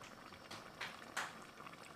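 Water is poured into a pot to cover okra for an Egyptian-style bamya stew, heard as faint, bubbling splashes and gurgling bursts that swell twice near the middle, quiet overall with no talking.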